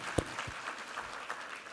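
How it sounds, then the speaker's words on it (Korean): Church congregation at a Sunday service applauding, a faint, thin patter of claps with a few sharper individual claps standing out near the start, all at low level. "우리 하나님께 감사와 영광의 박수 올려드리겠습니다."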